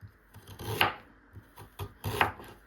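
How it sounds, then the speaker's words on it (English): Ginger being chopped into small pieces with a knife on a cutting board, a few uneven knife strikes and scraping taps, close and moderately quiet with no talking. "Chop the ginger into small pieces."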